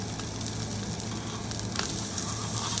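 A sous-vide-cooked ribeye steak sears in a hot pan without butter, giving a steady, close, continuous sizzle throughout.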